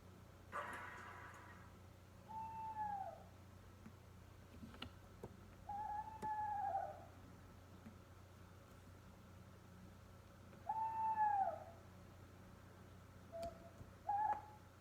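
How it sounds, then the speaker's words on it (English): An owl hoots in a quiet setting, four separate calls spaced several seconds apart over a low steady background hum, clear and moderately near with no talking. "if you said it's an owl hooting, you are correct"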